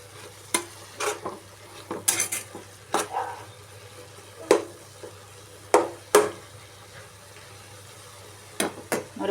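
A tomato and tamarind mixture is stirred in a pan with repeated, irregular spoon scrapes and clacks against the pan, close and distinct, over a faint sizzle, with no talking.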